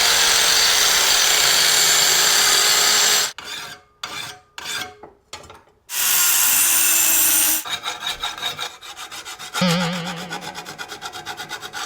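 A Toro lawn mower blade, removed from a mower tipped on its side, is sharpened with a hand file in loud, steady rasping strokes, broken by short pauses, then by a burst of fast, choppy scraping.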